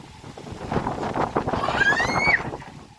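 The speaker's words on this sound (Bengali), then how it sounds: "ব্যাপক ঝড় তুফান, বৃষ্টি আরম্ভ হয়ে যাবে এখনই। প্রচন্ড বাতাস হইতেছে।" Strong gusty wind blows across an open village ahead of a storm, roaring steadily and loudly close to the microphone, with a brief faint whistling tone rising near the end.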